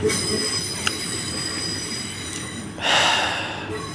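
A Class 801 train in Train Simulator 2022 rolls past with steady broadband rumble and a faint metallic wheel squeal, swelling briefly into a louder hissing rush near the end before easing off.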